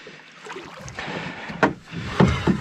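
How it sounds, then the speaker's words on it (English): A canoe on Flour Lake in the Boundary Waters of northern Minnesota, close sloshing water and a few hollow knocks and splashes over a steady outdoor hiss, with no voices. "All right, I'm gonna take the canoe out."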